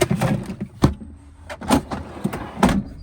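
A few solid thumps and clunks of a fridge door swinging shut, close by, with light rattling between them.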